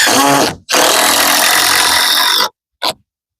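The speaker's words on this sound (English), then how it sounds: "I have to screw those in as well." Power drill driving screws into a wooden window header during tiny house framing, two loud close bursts of whining motor, the first about half a second and the second about two seconds, then a brief blip, with no talk.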